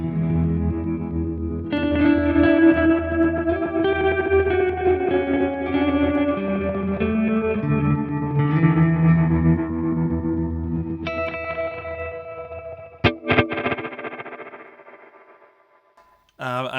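Electric guitar played through the Walrus Fable ambient pedal on program 1, chords washing into long shimmering, echoing swells with lingering tails, a few sharp plucked accents near the end before fading out.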